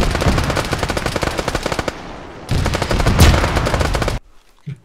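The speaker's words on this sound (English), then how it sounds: "Oh, I'm getting shot in the back." Rapid automatic gunfire in the military shooter game Arma 3 rattles in two long, dense bursts, loud and close, with a brief quiet gap between them and near silence at the end.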